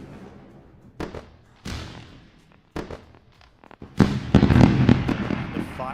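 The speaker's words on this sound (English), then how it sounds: "The fireworks for you." A fireworks sound effect plays during a live trading-giveaway stream: a few sharp separate pops and bangs, then a dense crackling barrage of bursts, fairly loud and alone without talk.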